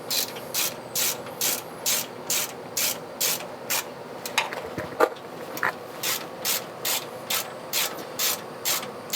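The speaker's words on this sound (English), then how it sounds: "I'm just going to go through and snug these up, but not really tighten them" A ratchet snugs up the differential cover bolts in a regular rhythm of short clicking bursts, about two per second and close by, with a brief pause and some metallic clatter partway through.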